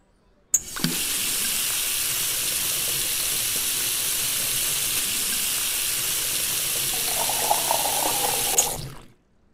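Water runs steadily from a tap into a sink in the Cooking Simulator video game, a constant close hiss that starts abruptly, holds for about eight seconds and then cuts off.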